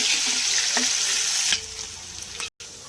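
Prawns fry in a pan of hot oil with a loud, crackling sizzle that drops to a softer hiss midway, broken by light stirring scrapes and a brief cut in sound.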